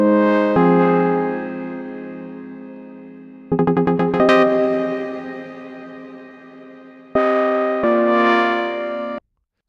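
A bright saw-based synth pluck patch made in Serum within Ableton plays a sparse phrase of sustained, slowly decaying chords with quick rapid-fire retriggers, clear and upfront with no voices.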